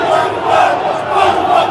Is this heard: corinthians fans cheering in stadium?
yes